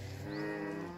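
A cow moos once, a long, low, close call in a village.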